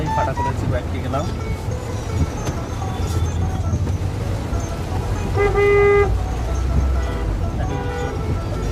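Heavy traffic rumbling in the rain, with several car and bus horns honking close by, including one long sustained toot, over a steady roar of engines and road noise.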